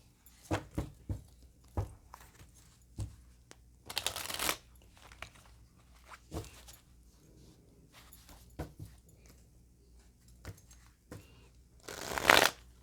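Tarot cards being shuffled in scattered quick riffling bursts, soft and close in a quiet room, with a couple of louder flurries and long near-silent gaps between them.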